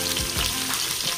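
Onions, green chillies and capsicum fry in oil inside a pressure cooker, giving a steady close sizzle with a few stirring scrapes near the start and no talking.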